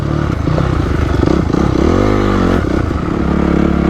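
A stock Honda CRF250X four-stroke dirt bike is ridden on tight woods single track, its engine loud and close, revving up and down with clattering through the ride.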